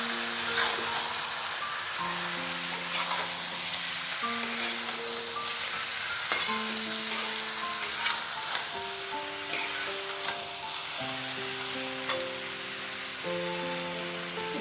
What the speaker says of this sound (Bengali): সবজির সঙ্গে মুগের ডালটাকে একসাথে ভাজবো।